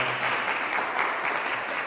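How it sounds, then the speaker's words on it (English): A crowd applauds steadily at a community event honoring visitors from the Dominican consulate, a dense, even patter of many hands clapping at moderate distance. "please give a round of applause to them"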